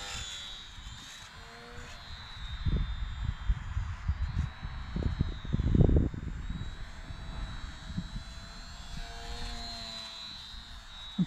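Small electric motor of a Hobbyzone UMX Sport Cub S RC plane in flight near branches, held close to three-quarter or full throttle, a steady distant whine with louder gusty buffeting in the middle.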